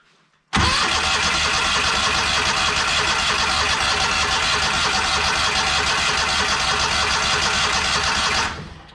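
A Walker riding mower engine fitted with a new carburetor cranks and catches, then runs loud and steady for about eight seconds before cutting off abruptly.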